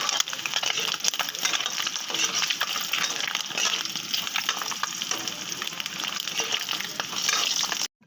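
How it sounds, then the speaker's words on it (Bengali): A boiled egg fries in oil in a pan, giving a steady, dense sizzle with light crackling that carries on evenly for several seconds before stopping abruptly. "দেখো বন্ধুরা, কি সুন্দর ডিমটা ভাজা হয়ে যাচ্ছে।"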